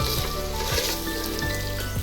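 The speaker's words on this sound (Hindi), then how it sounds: "अब हम सूजी को लो फ्लेम पे भूनेंगे।" Semolina roasts in oil over a low flame for halwa, a soft, continuous sizzle with light crackling and faint tonal hums in the background.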